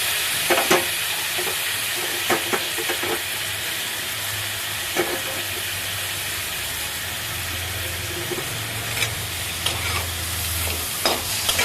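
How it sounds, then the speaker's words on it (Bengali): Bitter gourd slices fry in a pan with large fish roe, a steady close sizzle under repeated scraping stirs of a spatula, with intermittent clacks against the pan and no talking. "এখন আমি এর মধ্যে দিয়ে দিচ্ছি উচ্ছেগুলো।"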